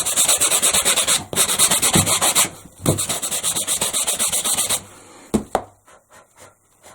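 Coarse sandpaper scrubs painted glass on a Dollar Tree bowl in quick, loud rhythmic strokes close by, pausing briefly, then slowing to a few scattered scrapes and taps.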